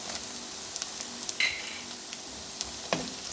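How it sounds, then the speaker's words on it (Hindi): Green chillies fry with onions in a pan, giving a steady soft sizzle with a few clinks and scrapes of a spoon stirring, heard up close without any talking. "2 मिनट हम इसको भूनेंगे"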